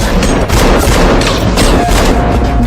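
Rapid gunfire from a film shootout, a wounded man with a pistol taking dozens of shots from a bald gangster in a crime boss's hall; dense, loud, continuous bursts with booming impacts throughout.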